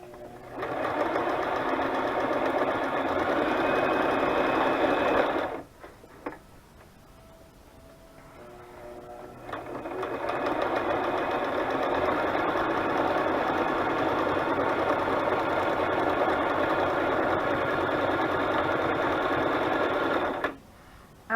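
A sewing machine runs a steady straight stitch around paper journal pages, loud and close, in two long continuous bursts separated by a few seconds of near-quiet with light handling.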